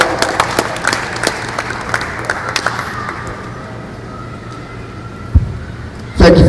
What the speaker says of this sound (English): I want to give this young brother a round of applause.